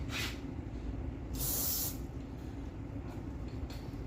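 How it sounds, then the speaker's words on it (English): A couple of short hissing bursts of an aerosol spray can, the longest lasting about half a second, over a low steady background rumble, sprayed onto a table during a 2001 Honda CR-V valve cover gasket replacement. "My wife is not going to be happy with me spraying this on the table"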